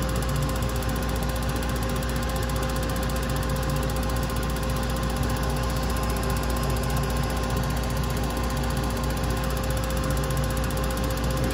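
A gas unit heater's igniter sparks in a steady, rapid mechanical ticking. The ticking runs without a break over a continuous loud hum, and no one talks.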